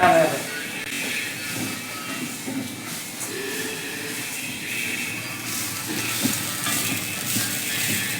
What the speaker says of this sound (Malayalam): നാളികേരം ചേർത്തിട്ട് വറുത്തെടുക്കണം ചുവന്ന കളറാവണം